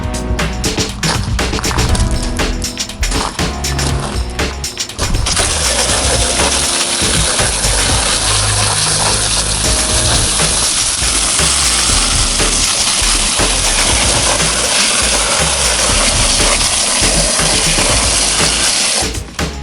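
A hose stream rinses heavily mud-caked motocross boots for a Suzuki RM 125, a steady loud broadband spray running throughout after a few seconds of clattering handling and knocks at the start.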